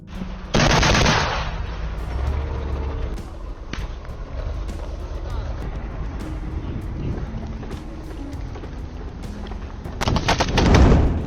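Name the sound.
gunfire from a Ukrainian tank and armored vehicle in combat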